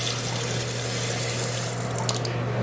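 Steady running water from a matte black 4-inch two-handle centerset bathroom faucet, a continuous close hiss with a faint hum beneath and no talk.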